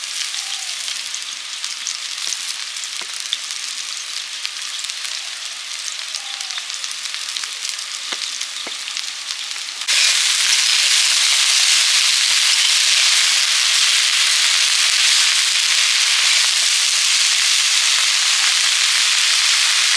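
Drumstick flowers hit a hot pan that already holds boiled potato. A light background crackle jumps halfway through into a loud, dense, steady sizzle of frying that carries on to the end.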